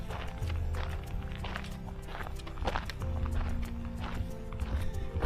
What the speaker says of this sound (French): Monter sur une plaque de fer, là, ça fait du bruit